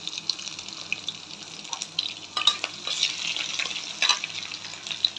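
Garlic and panch phoron fry in a pan with a bright, crackly sizzle close by and occasional stirring clatter. It starts quieter and grows busier partway through.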